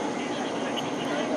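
An Airbus A380 jet engine run roars as a steady, even whoosh from a distance at Hong Kong International Airport, alone for a brief moment.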